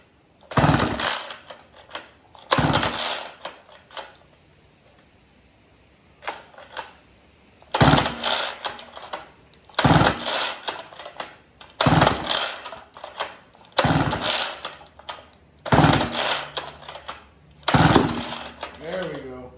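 A flooded McCulloch 440 chainsaw engine catches and sputters in a string of about eight loud, rough bursts, separated by short quiet gaps, close to the listener.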